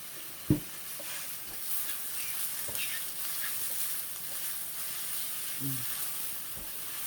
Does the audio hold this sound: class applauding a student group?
no